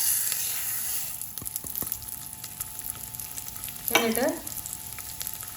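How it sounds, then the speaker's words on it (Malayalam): Moong dal frying in hot ghee in a pan: a quiet, low sizzle, then a brief louder burst of sizzling and stirring midway. One short spoken word. "നെയ്യ് ഒന്ന് ചൂടാവുമ്പോൾ പാശിപ്പരിപ്പ് 1/4 കപ്പ് ചേർത്ത് കൊടുത്ത് നെയ്യിലിട്ട് വറുത്തെടുക്കാം"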